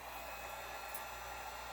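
A hot air gun blows steadily on a bike decal to soften its adhesive, a constant close whooshing drone with no pauses and no talking.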